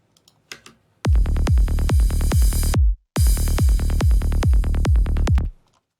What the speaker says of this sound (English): So my reverse copy ends right before the last kick and where the bass ends.